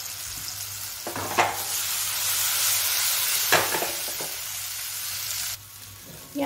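Sprouted-lentil dhokla pieces stirred gently through a hot tempering in a pan, a steady close sizzle broken by a few brief scraping stirs, the frying hiss dropping slightly near the end.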